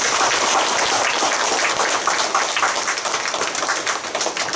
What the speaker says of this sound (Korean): 치료 잘 견디고 건강해지시라고 격려 박수 한번 하겠습니다